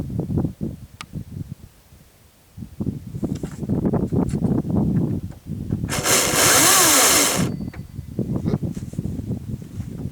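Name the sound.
cordless electric chainsaw running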